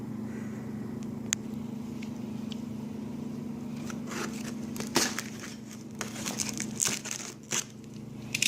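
Plastic and cardboard packaging crinkles and rustles as an LED grow light is unpacked indoors, quiet at first and then busier handling noises over a steady low hum.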